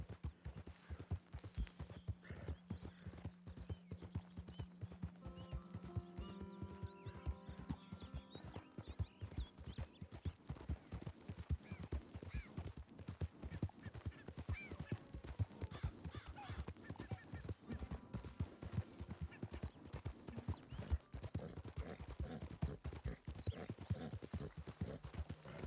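Steady, rhythmic clip-clop of horse hooves trotting in the video game Red Dead Redemption 2, continuous throughout with faint ambient sound underneath.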